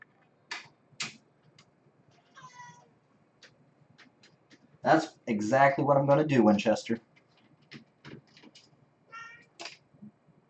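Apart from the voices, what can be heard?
kitten meowing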